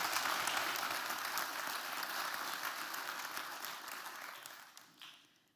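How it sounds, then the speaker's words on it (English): Audience at a science forum event in Eindhoven applauds to welcome a speaker to the floor, dense steady clapping from a large hall that gradually thins and fades toward the end. "Give her a big applause."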